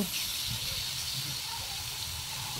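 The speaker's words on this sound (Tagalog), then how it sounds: "Pan-fry muna natin ang ating baka." Beef pan-frying for mechado gives off a steady, close hissing sizzle that holds evenly throughout, with no talk over it.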